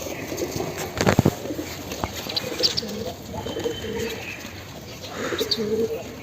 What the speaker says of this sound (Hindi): फंदे में आ गया ये कबूतर।